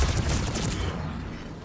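A burst of rapid gunfire in the Mass Effect 3 video game, loud and dense at first and then tapering into a rumbling decay within about two seconds.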